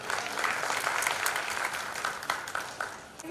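A seminar audience at a toppers' felicitation breaks into steady applause, dense clapping from many hands that holds evenly for a few seconds and then starts to thin, with no voices over it.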